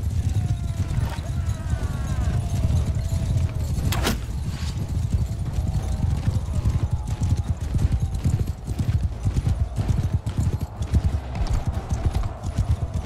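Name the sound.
horse galloping hooves in Mount & Blade II Bannerlord video game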